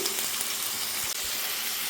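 Potatoes fry in a pan as their rinse water cooks off, a loud continuous close sizzle with a faint scrape or two partway through.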